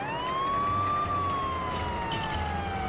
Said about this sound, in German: Auch hier die Sirene an.